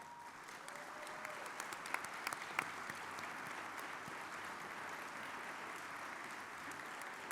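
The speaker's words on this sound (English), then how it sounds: "please give these elected officials a round of applause" Sustained audience applause at an NAACP Freedom Fund Dinner, a steady even wash of many hands clapping for the whole stretch, with a few sharper claps standing out, heard from a distance in a large room.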